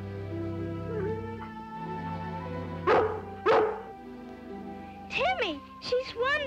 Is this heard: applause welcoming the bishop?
no